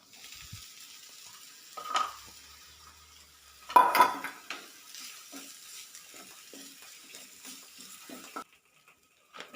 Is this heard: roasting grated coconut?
yes